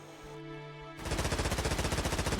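Automatic weapon fire in the vehicle-building game Stormworks, a steady fast train of loud shots starting abruptly after a low mechanical hum, with no talk over it.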